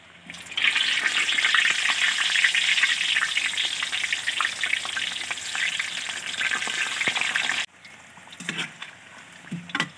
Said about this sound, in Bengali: এই তেলে সিদ্ধ করা আলুগুলো ভেজে নেব।